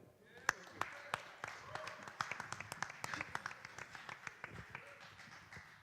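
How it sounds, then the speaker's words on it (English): Quiet, scattered applause rises at a boxing press conference launching Andrade vs. Sulecki, with sharp separate claps over murmuring voices in the room. "big round of applause, please, for Paul Andrade"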